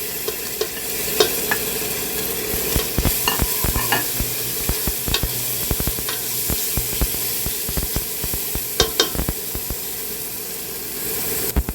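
Mixed vegetables stir-fry in oyster sauce, a loud, steady sizzle and hiss broken by frequent sharp clacks and scrapes of a utensil stirring in the pan, with no talking.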